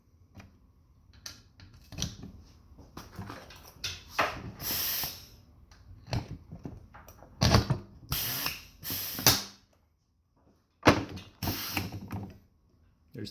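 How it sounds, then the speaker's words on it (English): A power riveter sets stainless steel rivets during a pole saw repair, giving separate bursts of sharp mechanical clicks and hissing snaps between quiet gaps. "you might want to use a power riveter for this job, as these stainless steel rivets are quite strong."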